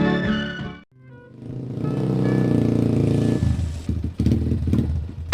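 Small motorcycle engine revving and idling, loud and close, with a brief drop before the revs build again and some clatter near the end.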